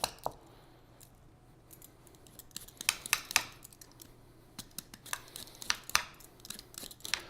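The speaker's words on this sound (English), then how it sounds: "you can see how it takes a little bit of effort to peel it" Eggplant skin being peeled by hand in a home kitchen, heard as a run of close, dry scraping and tearing strokes in irregular bursts that grow busier toward the end, with no talking.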